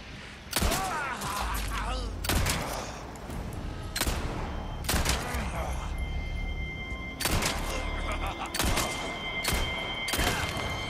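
Repeated loud gunshots in Resident Evil 4 Remake on PS5, sharp bursts a second or two apart over a constant background hum.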